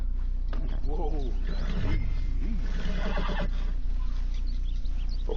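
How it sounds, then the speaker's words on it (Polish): Horse whinnying loudly in Red Dead Redemption II, a couple of shrill neighs near the start over steady game ambience, with someone talking soothingly throughout. "Uspokój się, koniu. Nie szalej."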